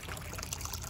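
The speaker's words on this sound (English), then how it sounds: "So this gorgeous fountain also has a very accurate autofill" Water trickling and pouring in a garden fountain with an autofill, a steady close splashing flow alone for under a second.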